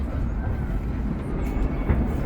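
The Cinderella train at Dollywood rolls along its rails with a steady low rumble and soft rattling, heard from on board over a short stretch.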